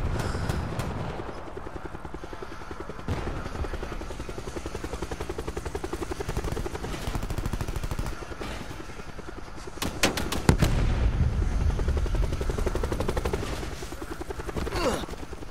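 A helicopter in a video game whirs steadily throughout, joined by bursts of rapid gunfire, with a loud flurry of shots near the middle and a few more toward the end.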